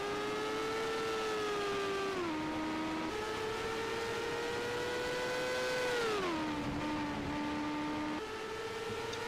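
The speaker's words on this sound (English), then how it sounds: "You could hear it a little bit there, just breathing out of the throttle on exit." A Champ Car race car at the 2024 Melbourne Grand Prix whines loudly, its engine pitch sliding down twice as the driver lifts off the throttle on corner exit, then holding steady between the drops.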